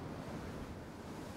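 Sea waves wash steadily on a fishing outing while wind buffets the microphone, producing a continuous, fairly quiet rushing roar with no voices.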